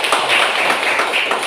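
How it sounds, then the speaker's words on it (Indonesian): An audience gives a steady wash of applause for the chairman at an election supervisory body's institutional training event, dense and even with no voices over it. "Kita berikan aplaus untuk Pak Ketua kita."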